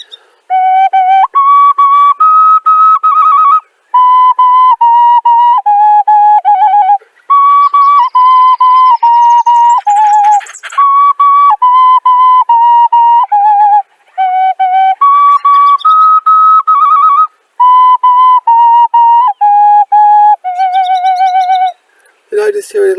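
A four-hole ocarina plays Twinkle Twinkle Little Star, pure breathy tones stepping through the melody in phrases separated by short breaths, loud and close, with a few wavering high squeaks.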